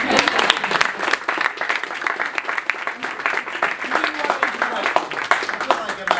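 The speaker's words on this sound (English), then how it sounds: "Anybody else want to applaud? Go ahead." Audience applause and cheering in a room, dense continuous clapping from many people throughout, fairly loud and close.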